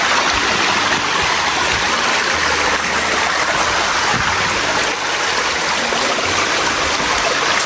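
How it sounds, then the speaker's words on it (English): A waterfall at Placerita Canyon on a rainy day roars as a steady, loud, broadband rush of falling and flowing water, continuous and close with no break throughout. "Alright guys, nakita na yun na ang waterfalls."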